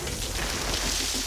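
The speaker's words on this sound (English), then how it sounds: "the Simpsons-like fountain water shooting out of the toilet behavior from a cherry bomb thrown into the system" A cherry bomb blasts inside a fully clogged half-scale toilet system, sending water shooting out; heard as a steady loud rushing, splashing spray that fills the short moment, with no voices.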